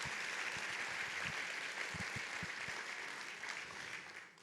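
Steady applause from a crowd fills the whole stretch, dense and even, then tapers off toward the end.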